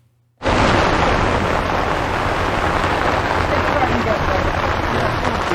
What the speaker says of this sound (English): the skies opened up with a brief downpour, so I took some shelter under Radiowild's tent